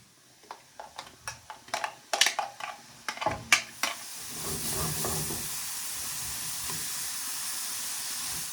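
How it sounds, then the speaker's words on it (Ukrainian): Mushrooms frying in a pan with onion and garlic, with a run of sharp stirring clatters giving way to a steady, fairly quiet steam hiss and sizzle, no talking. "Ми маємо позбутися вологи з наших грибів і обсмажити їх"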